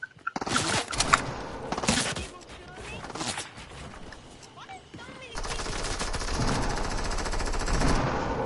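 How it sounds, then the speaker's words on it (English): Gunfire crackles through a shooter video game match, including shotgun blasts, with dense bursts early on and a steadier roar of shots later, loud and close, while a player talks over it. "he just shot me with a shotgun"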